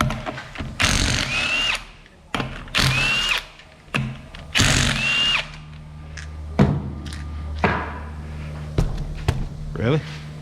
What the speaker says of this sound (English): So you have to drill a hole to repair the tire.